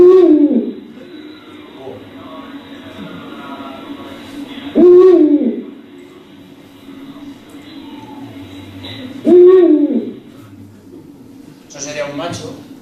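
An owl hoots three times at regular intervals, loud and close, each call a short wavering note, with a faint hum between calls and a brief noise at the end.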